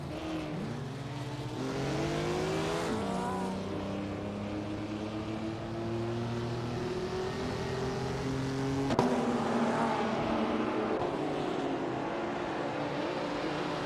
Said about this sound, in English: We are currently watching a thrilling race in the racing simulator